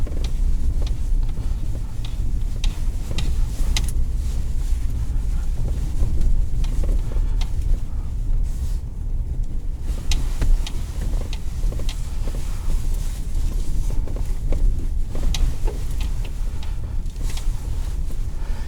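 A 2021 Ford F-150 Lariat pickup rolls over bumpy road, heard from inside the cab as a steady low rumble of road and engine noise with wind, broken by scattered light knocks and rattles from the bumps.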